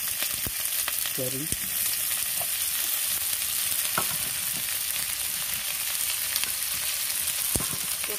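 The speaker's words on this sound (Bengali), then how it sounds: "দিয়ে এই জিনিসগুলোকে সামান্য পরিমাণে একটু নেড়ে নিলাম" Green chillies and capsicum are stirred in hot oil in a pan while cooking chicken kosha, giving a steady close sizzle broken by scattered spatula scrapes and taps, with a brief spoken word near the start.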